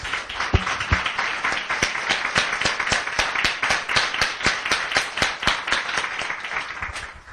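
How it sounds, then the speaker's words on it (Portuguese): A church congregation at a Portuguese-language service claps in unison for God, sharp, steady, evenly spaced beats at about three per second, loud and close throughout. "Vamos dar uma salva de palmas bonita para o nosso Deus."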